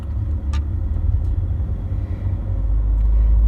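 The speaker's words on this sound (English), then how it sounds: "Right foot on the accelerator, left foot on the clutch, and let me release it. Okay. The motor is absolutely punchy." A 2002 Mercedes-Benz C200 CDI W203 diesel engine pulls away under acceleration, a steady close low rumble that builds toward the end with no talking.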